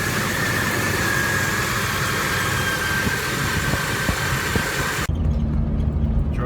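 A Jeep Wrangler 4.0L engine runs at a steady idle after new spark plugs, a continuous close rumble with faint whine, the sound changing abruptly near the end as if the mic moves away.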